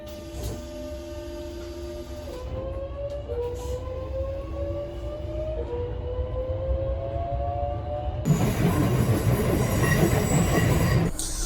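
Inside a moving Metro-Cammell Class 465 train, wheels squeal in rising and falling tones over steady rail rumble, then a louder burst of rushing noise takes over near the end; no voices.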